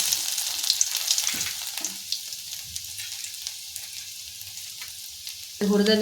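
Cumin and garlic crackle and sizzle in hot oil in a pan, a steady faint frying hiss with small pops, then a louder burst of sizzling near the end.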